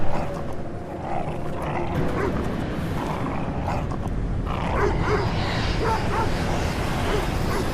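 Dog barking and whimpering in a folk horror deckbuilder video game, heard under a dense, rumbling ambient game soundscape that fills the whole stretch, no one speaking.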